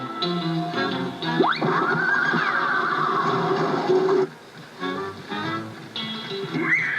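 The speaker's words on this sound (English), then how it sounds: "that's the same rude laughing horse" A cartoonish horse whinny stretches into a long, loud, warbling laugh lasting a few seconds, followed by shorter squealing bursts.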